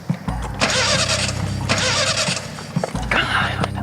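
A car engine cranks in repeated bursts of starter whine but never catches, fairly close and loud, with short pauses between attempts.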